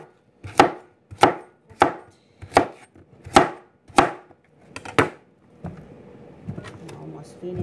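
A knife chops through pumpkin on a board in seven loud, evenly spaced thuds, close up, then trails off into softer handling noises near the end.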